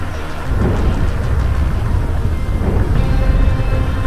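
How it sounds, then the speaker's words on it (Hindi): Deep rolling thunder with rain in the GTA 5 video game, as dusk falls over the city; a low continuous rumble swells after a quiet start and holds loud and steady, with no talking. "बादल की गड़गड़ाहट से पूरा GTA 5 दहल गया"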